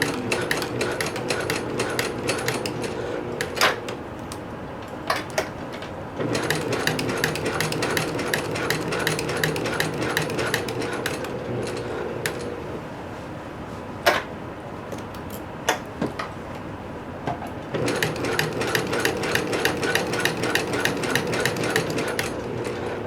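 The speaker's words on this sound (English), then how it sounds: "I'll just keep sewing at 1/2 inch" A sewing machine runs a half-inch seam on a pair of pants in long bursts of rapid, even stitching with brief pauses between runs and occasional sharp clicks, close and alone.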